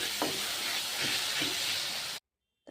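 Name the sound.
spices and mutton being stirred and frying in a pan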